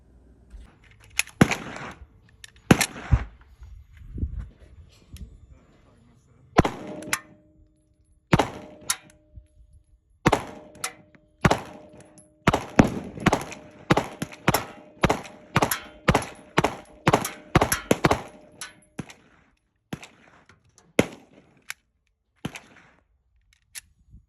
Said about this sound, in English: I'll tell you exactly what my thoughts were as I was shooting this firearm